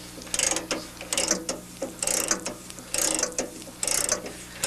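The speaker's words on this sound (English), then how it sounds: "This particular model, we have a ratchet to lower the pickup." A hand ratchet lowers the pickup on a Case IH 8530 baler, clicking in repeated bursts of quick, close pawl ticks with short pauses between strokes.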